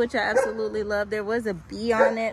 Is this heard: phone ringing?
no